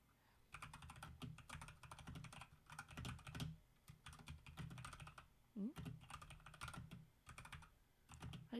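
Rapid typing on a computer keyboard during a live stream, close clattering key clicks in quick bursts broken by short pauses, with faint voices now and then.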